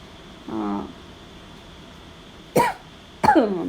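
A short voiced throat sound is followed by two sharp, close coughs a moment apart, in an otherwise quiet room.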